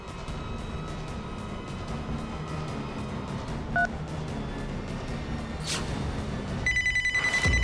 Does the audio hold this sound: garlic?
no